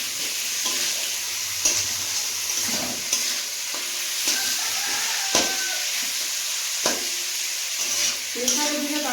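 Goat meat is stirred and braised in a pan, with repeated sharp scraping strokes cutting through a steady sizzle at an uneven rhythm.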